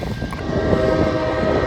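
A Triple Crown trailer train approaches on a railroad siding, a loud sustained rumble with a horn-like tonal blare over it and rolling wheel noise, close and without talk.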